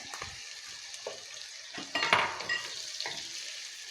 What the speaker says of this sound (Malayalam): സവാള അരിഞ്ഞത് ഇട്ട് നമുക്കിപ്പോൾ വഴട്ടാം.